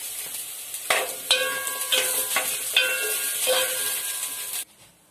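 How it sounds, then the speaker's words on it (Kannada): Onion frying in oil in a pan, a loud continuous bright sizzle broken by several metallic clinks of stirring, heard alone until it cuts off near the end. "ಈಗ ಸ್ವಲ್ಪ ಎಣ್ಣೆ ಹಾಕ್ಬಿಟ್ಟು ಅದಕ್ಕೆ ನೀರುಳ್ಳಿ ಹಾಕಿ ಫ್ರೈ ಮಾಡ್ಕೊಳ್ತಾ ಇದ್ದೀನಿ."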